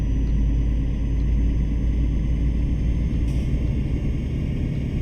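A truck engine running in the video game Euro Truck Simulator 2, a steady, loud, low rumble that holds unchanged throughout with no talking.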